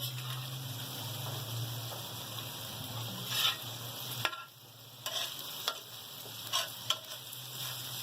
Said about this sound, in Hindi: अब हम इनको अच्छी तरीके से मिक्स करेंगे, भूनेंगे।